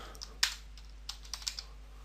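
A computer keyboard is typed on up close in a short burst of a few sharp clicks, irregular and fairly quiet against a faint background hum.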